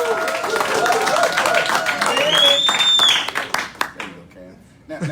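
An audience at a gold-backed crypto presentation claps and cheers loudly after being urged on, a dense burst of applause with shouts that thins out toward the end, with a voice over it.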